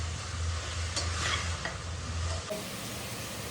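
Carrots and cabbage for momo filling stirred in a pan, a steady scraping of a utensil against the pan over a soft frying sizzle, with a low hum beneath and no voices.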